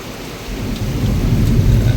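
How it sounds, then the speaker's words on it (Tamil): Heavy rain pours steadily with rumbling thunder underneath, a loud, dense outdoor downpour that swells slightly and continues alone without voices. "ஆனால் இப்போ பெஞ்சுது பார்த்தியா இந்த மழை"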